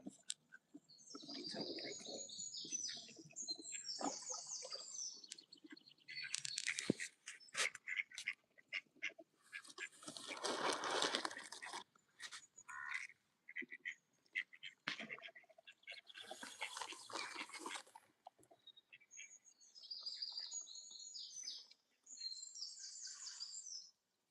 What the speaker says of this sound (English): Here we have another group of ducks.